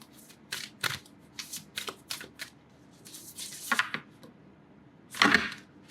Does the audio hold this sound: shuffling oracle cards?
yes